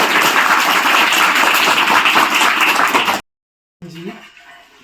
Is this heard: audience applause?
yes